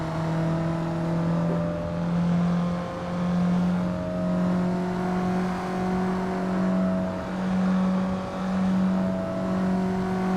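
A Mazda Miata engine in Assetto Corsa holds a steady, droning hum with slow swells of revs rising and falling in a regular rhythm, loud and close with no talk.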